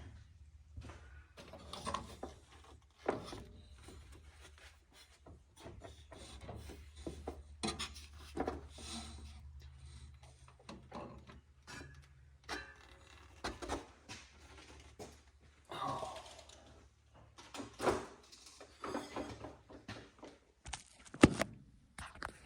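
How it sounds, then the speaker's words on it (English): Radiator being lifted out of a 1954 Oldsmobile during a Cummins diesel swap, producing scattered close scrapes, rubbing, knocks and thunks of metal against the frame, irregular and moderately loud. "I'll go ahead and lift the radiator out so you can see the nuts a little bit better"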